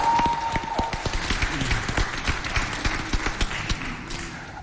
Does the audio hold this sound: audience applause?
yes